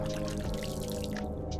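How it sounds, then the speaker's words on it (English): Water added by astronauts to a plant growth system with a clay substrate aboard the ISS, a brief continuous pouring gurgle, fairly close and moderately loud. "Astronauts activate the system by carefully adding water."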